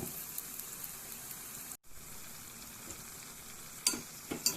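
A snack frying in oil until golden red, a steady soft sizzle running throughout with a brief dropout near the middle and a few louder crackles and pops toward the end.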